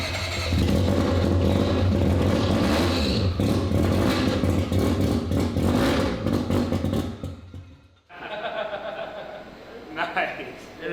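A semi-peripheral port two-rotor rotary engine in a Corvette fires for the first time, a loud, choppy, raspy idle with revving bursts that cuts out abruptly, followed by excited voices and laughter.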